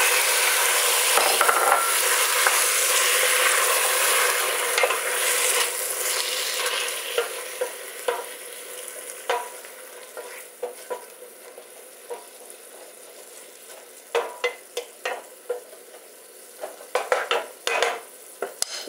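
Tomatoes softening in a hot pan for sopa azteca give a steady sizzle and hiss, with scattered stirring scrapes and utensil clicks growing more frequent toward the end; no one speaks.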